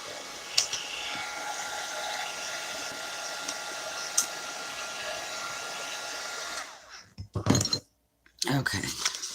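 A heat gun blows steadily with a continuous airy roar and a few faint clinks for several seconds while its cord rattles, then cuts off into a handful of short clattering knocks.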